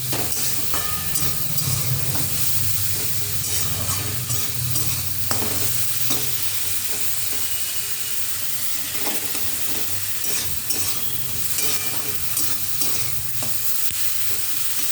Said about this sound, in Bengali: দিয়ে এবার এটা লাল লাল করে ভালো করে ভাজতে থাকবো।